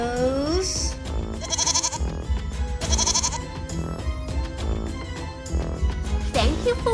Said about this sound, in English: The goat goes...